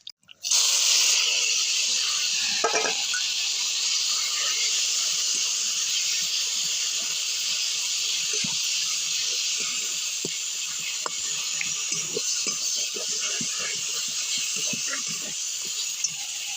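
Oil, a bay leaf and a little sauce sizzle in a preheated kadai for tempering, giving a steady, loud hiss that holds for the whole stretch, with faint clicks of utensils beneath.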